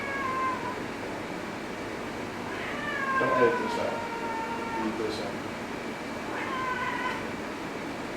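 A cat meows several times at moderate distance, drawn-out whining cries with small gaps between them, while people talk over and around them.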